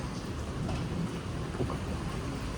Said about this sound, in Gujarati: ફૂલે ફૂલ વાવાઝોડું આવવા મળ્યું છે વળી, અને વરસાદ તો તમે જોઈ જ શકો છો.